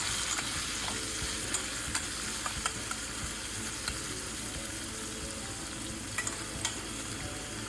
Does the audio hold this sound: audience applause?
no